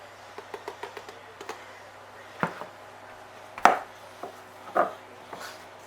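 Hands work scone dough in a bowl, giving a string of soft, irregular pats, squishes and light knocks, some louder than others, with no talk.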